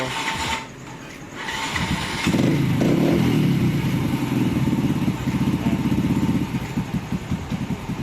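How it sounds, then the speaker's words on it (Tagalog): A SYM RV1 110 motorcycle, nine years old with stale fuel, idles steadily after starting, its small single-cylinder engine giving a continuous close, loud puttering rumble that holds for several seconds. "Umaandar siya good pa naman maganda pa andar niya ang ganda rin ng makina nito, tahimik."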